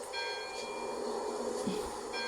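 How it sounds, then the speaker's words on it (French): Church bells in the video game Forza Horizon 4 ring out steadily over a constant V8 engine drone, with bright sustained tones repeating through the background. "Ah, les cloches."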